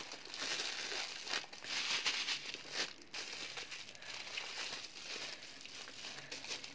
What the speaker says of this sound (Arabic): لازم تخرجوها من الهواء اللي في الكيس